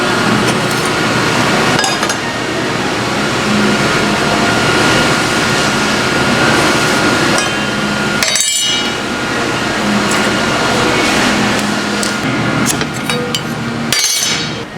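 Steel being cut for a 4-link suspension install gives a loud, continuous, harsh grinding roar close by. It runs steadily with two brief drops and some sharp metallic clinks.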